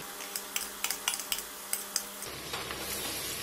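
Finely chopped garlic sautéing in a pan for a Kerala-style nadan beef curry, with a run of sharp spoon-on-pan scrapes and clinks over a soft sizzle that settles into steady frying.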